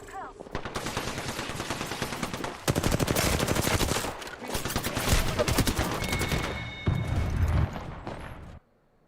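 Sustained automatic gunfire from an Apex Legends arena match, dense rapid bursts crackling almost without pause over nine seconds, loud and close, with a few short gaps between volleys and a brief voice under the shooting.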